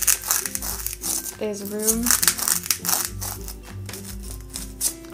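Scissors snip and clear out the base of a handmade paper Piranha Plant craft, with crinkling paper and short cutting sounds close by, while a person talks over it.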